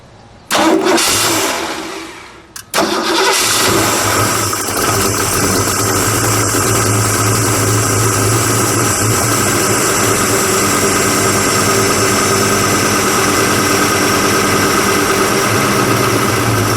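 A 1969 Ford Shelby Mustang GT350 V8 cranks briefly, catches with a loud roar, then settles into a steady, rumbling idle up close for the rest of the time, no talk over it.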